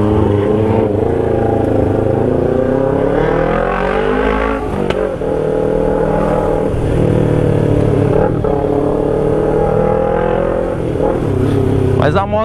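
A Kawasaki Ninja 250 motorcycle engine drones steadily up close, its pitch rising and falling as it accelerates through gears, with a dense rumbling tone that stays loud throughout.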